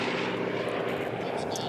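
Unlimited-class racing planes roar past during a race at the Reno Air Races, a loud, steady broadband engine drone with a commentator talking over it throughout.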